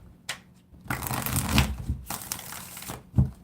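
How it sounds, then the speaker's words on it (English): A deck of tarot cards being shuffled up close: papery riffling and crisp slapping in several bursts, with a sharp tap near the end and no talk. "One more shuffle."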